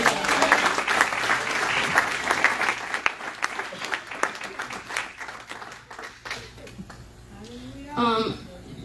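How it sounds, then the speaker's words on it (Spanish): Congregation applauding loudly at a church children's school gathering, dense sustained clapping that thins out toward the end, with a voice rising briefly near the close. "Den un fuerte aplauso, Señor"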